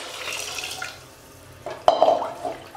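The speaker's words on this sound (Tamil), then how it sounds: "இப்போ வந்து தண்ணி விடலாம்" Water is poured into a pan of sautéed pepper and cumin while tomato rasam cooks, giving a brief splashing, sizzling burst after soft kitchen stirring, close and fairly quiet.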